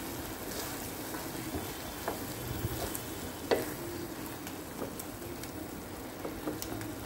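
Potato and khoa shira cooks in a pan, giving a steady soft sizzle with occasional scraping taps of a spoon as it is stirred, close and quiet without talk.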